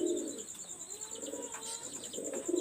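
A pair of high flyer pigeons coos close by, soft repeated throaty calls in a slow pulsing rhythm, set against a constant thin high chirping of insects or birds in the background.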